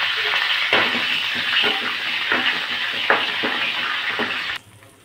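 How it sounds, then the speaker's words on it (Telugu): A tempering sizzles and fries in a pan, a loud close hiss broken by repeated stirring scrapes and soft clinks of a utensil, then cut off abruptly near the end. "ఇదిగోండి తాలింపు వేసేసింది"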